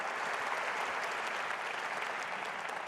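A crowd applauds steadily, a dense wash of clapping that holds at an even level throughout, with no voices standing out.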